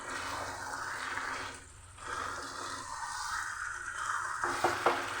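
Spiced chicken being stirred for biryani in a pan, a steady close sizzle with soft scraping and a few sharper utensil knocks near the end, no voices.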